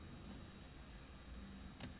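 Faint typing on a computer keyboard, a few soft scattered key clicks with a couple of sharper taps near the end, heard alone with no talking.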